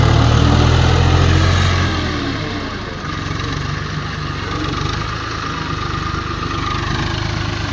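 A tractor engine runs steadily on a rough off-road village track, a loud low continuous drone that is strongest at first, then settles slightly and holds with no talking.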